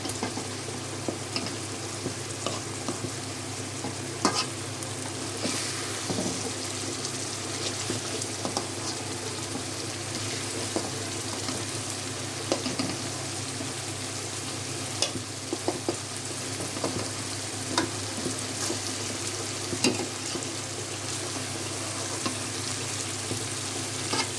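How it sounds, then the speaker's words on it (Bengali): Shing fish fries in oil for an aloo shing fish curry, a long steady bubbling sizzle with scattered light clicks and spoon knocks throughout. "এবার মাছটাও হয়ে গেছে কষানো। এখন মাছটা উঠাই ফেলবো।"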